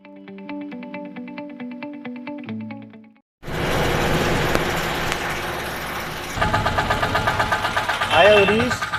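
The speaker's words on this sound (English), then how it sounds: "I have taken a bus for Dehradun." The engine of an intercity bus from Rishikesh to Dehradun rumbles and idles steadily after a short stretch of tonal, music-like sound, with a rougher surge near the end and faint voices over it.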